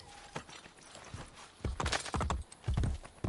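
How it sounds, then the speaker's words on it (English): Horse hooves clip-clop in the Assassin's Creed Brotherhood video game, a horse arriving at a steady walking gait that grows louder and closer across the second half, with faint lighter steps before it. "Let's call our horse"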